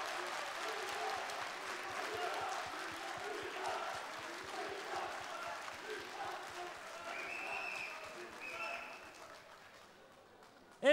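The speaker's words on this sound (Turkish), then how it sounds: "Şimdi Murat'ın taraftarlarından da Miktat'ı alkışlamanızı rica ediyorum." Studio audience applause at a TV singing talent show finale, a dense steady wash of clapping and crowd noise that carries on for the whole stretch and tapers slightly toward the end.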